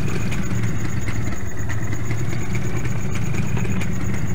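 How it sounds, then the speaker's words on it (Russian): A car engine in the Farming Simulator 2013 video game runs with a steady mid-low drone throughout, sounding more like a constant idle than a rising rev, with no talk over it. "Машина такая разгоняется"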